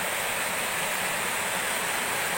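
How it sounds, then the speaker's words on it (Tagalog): Fast-flowing water at Mapita Falls in Aguilar, Pangasinan rushes in a dense, constant roar, close and loud with no pauses or voices. "mabilis po yung agos ng tubig"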